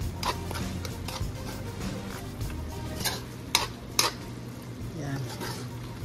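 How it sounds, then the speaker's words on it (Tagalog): Spoon scraping and stirring eggplant in a cooking pot of pork binagoongan, with soft clinks and a couple of sharper knocks against the side over low kitchen background noise. "Haluin ko muna."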